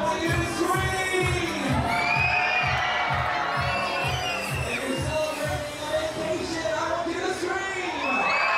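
Crowd of passengers screaming and cheering aboard the Disney Dream cruise ship, a loud sustained roar of voices with whoops and shouts, steady rhythmic thumping music beneath and an announcer's voice among the noise.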